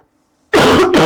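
A single burst of coughing and throat clearing breaks out abruptly after half a second of near silence, loud, close and harsh, continuing to the end.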